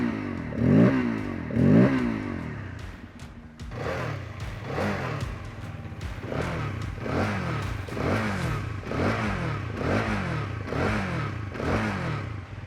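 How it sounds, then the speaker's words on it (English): Motorcycle engine from a Bajaj Pulsar N250 or Hero Karizma XMR 210, with two strong revs followed by a series of repeated, evenly spaced revving bursts, close and fairly loud, with clattery mechanical texture. "the Pulsar's growl stands out for its distinct and engaging sound"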